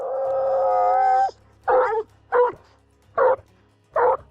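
Hunting hounds used for treeing cougars give a long drawn-out howl, then four short, sharp yips or barks in a steady rhythm, close and clear.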